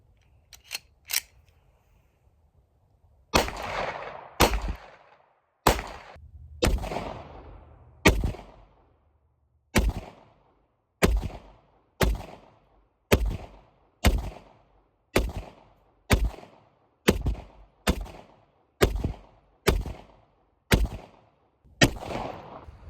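A Palmetto State Armory Dagger handgun fires at a target 50 yards away on a snowy range, about twenty sharp loud shots spaced a second or so apart, each with a short echoing decay.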